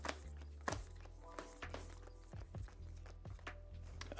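Cards from a board game are shuffled by hand, a run of short soft riffles and taps repeating in uneven bursts, close and quiet over a faint steady hum.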